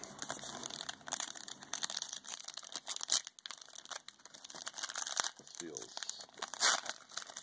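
Packs of 2018 Classics trading cards being ripped open by hand, with bursts of foil crinkling and tearing close up, interspersed with brief pauses and soft rustles.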